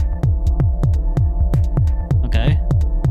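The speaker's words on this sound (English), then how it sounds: "we turned a pretty bassy sound into something that sounds more like a hi-hat" Korg Volca Sample playing a bassy sample turned into a hi-hat-like hit with reverb, a loud, steady pulse of about four short thumps per second over a sustained hum, with a brief brighter burst near the middle.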